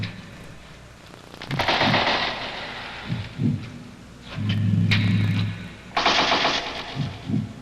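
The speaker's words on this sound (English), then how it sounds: "Somebody's trying to get out of there with a machine gun, it sounds like." Machine gun fire in a film soundtrack: bursts of rapid cracking shots with booming low rumbles between them, loud and echoing, several volleys over seven seconds with no talk.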